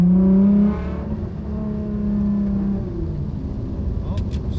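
Widebody Nissan GTR on a quick, gentle acceleration pull: loud, close engine drone that surges briefly at the start then settles into a steady hum, with no talking over it.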